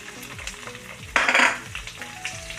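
Onion and green chillies fry in a pan, a close, steady sizzle with scraping stirs and a louder burst of crackling partway through, no voices.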